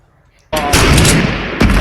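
A loud burst of gunfire erupts in the video game Fortnite after a quiet start, a sustained crackling volley followed by a second sharp shot near the end.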